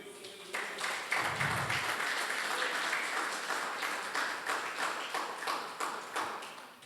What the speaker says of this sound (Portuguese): Pode se assentar e aplauda o nome do Senhor Jesus.